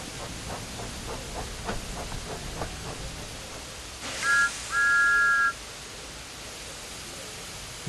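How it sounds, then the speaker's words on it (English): Thomas the Tank Engine gives a cheeky steam whistle: one short toot, then a longer sustained blast, loud and close over a quiet rumbling background. "Thomas likes whistling cheekily at him."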